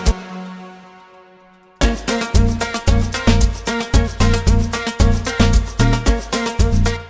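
A single sustained synth tone fades out, then a log drum played through an E flute preset plays a punchy, bass-heavy repeating pattern of short plucked hits, loud and upfront, with no voices.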